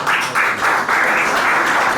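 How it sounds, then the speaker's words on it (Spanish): Audience applause at a talk in Vigo, a steady wash of many hands clapping in dense bursts that swell and dip over two seconds, fairly loud with no voices over it. "un aplauso para todos ustedes"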